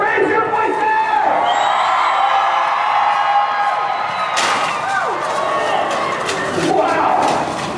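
A crowd at a renaissance fair joust screams and cheers loudly and continuously, with whoops and yells rising as riders pass and a thud midway, while an announcer's voice carries over it.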